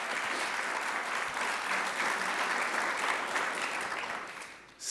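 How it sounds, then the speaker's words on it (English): Sustained audience applause fills a hall at a CUNY power breakfast, steady and dense throughout before fading out abruptly at the end. "You can clap, yes."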